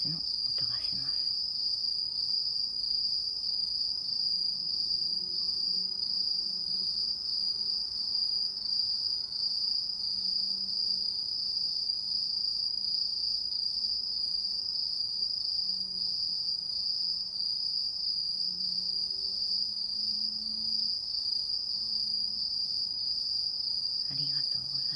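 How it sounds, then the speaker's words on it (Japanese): Crickets and other insects chirp in a steady, dense, high-pitched trill that never lets up, with a soft low hum in the background and no voices. "虫たちの音がします。"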